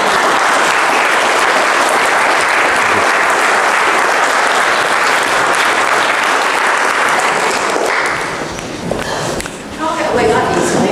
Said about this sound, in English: give me a massive round of applause